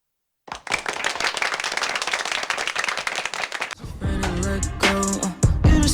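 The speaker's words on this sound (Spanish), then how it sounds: "gracias a todos, bye bye, aplausos para ustedes." Dense applause from an audience, loud and continuous for about three seconds, then fading into music with tonal notes.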